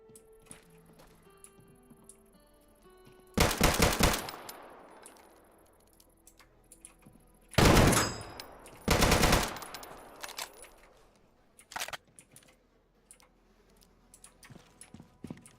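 Turret gunfire in Deadside, three loud short automatic bursts separated by quiet gaps, with a fainter single shot afterward and sparse small clicks in between.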